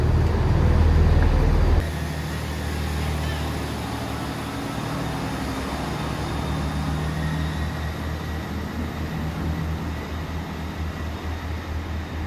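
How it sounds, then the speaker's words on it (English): Train 158837 rumbles steadily as it pulls into a station in Wales, a low engine drone with faint squealing tones, after a louder close rumble at the start. "And the train coming in is 158837."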